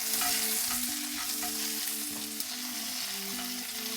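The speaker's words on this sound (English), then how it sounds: "Add a tablespoon of butter. Add in a few strands of ginger julienne and 1 green chili that I've split into half." Ginger julienne and a split green chili sauté in butter for butter chicken, giving a steady close sizzle with scraping stirs and clinks over a faint tonal hum, with no talking.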